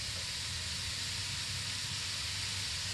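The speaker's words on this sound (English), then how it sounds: "Hear that sizzle" Cauliflower rice sizzles in melted coconut oil in a hot pan, a steady close hiss of frying that holds evenly throughout with no voices.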